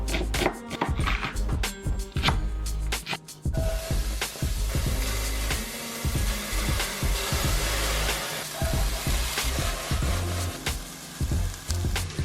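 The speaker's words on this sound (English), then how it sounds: "I'm gonna chop all this up and then get it into the frying pan with the chickpeas." A knife chops red onion, red bell pepper and kale on a cutting board. Rapid, irregular knife strikes run throughout, fairly close over a constant background hiss.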